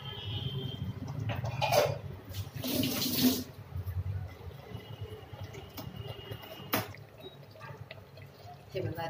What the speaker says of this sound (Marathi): याच्यात जे आपण वाटण्याचं जे पाणी होतं ते मी ॲड करते.